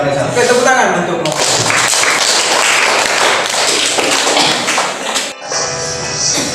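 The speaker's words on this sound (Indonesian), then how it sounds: "Oke, tepuk tangan untukmu." Classroom applause for a student: a burst of close, loud, dense clapping with a few thumps, framed by a teacher's voice before and after it.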